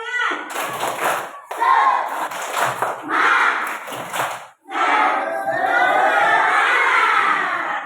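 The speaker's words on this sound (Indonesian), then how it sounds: "Tepuk tangan." Schoolchildren in a classroom clap and cheer together in loud, close bursts, their shouted voices rising over a steady patter of hands with a brief pause midway.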